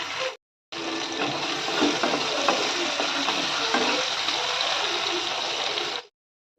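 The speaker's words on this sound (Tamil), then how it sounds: "சின்ன வெங்காயம் நல்லா பொன்னிறமாக வதங்கணும்." Small onions sauté in a pan for a kuzhambu, a dense continuous sizzling hiss close to the mic with faint stirring scrapes, cut off abruptly at both ends, with no talking.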